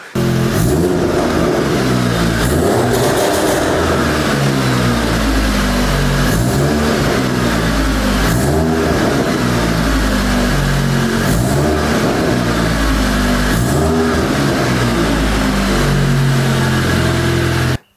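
A Volkswagen Golf GTI 7.5 engine revs repeatedly through a loud, throaty sport exhaust, rising and falling in pitch with short pauses between bursts, close by.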